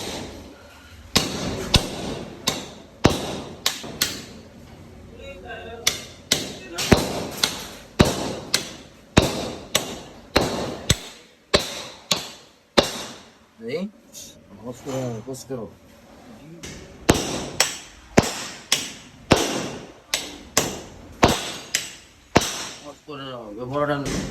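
Repeated hammer blows trying to loosen a stuck motorcycle part that lacks regular greasing: sharp metallic knocks in irregular bursts, near and loud, with someone talking between and over them.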